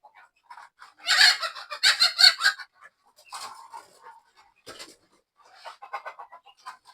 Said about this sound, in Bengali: এই মুরগিটা কিন্তু দেখতে পাচ্ছেন একদম হুবহু কালো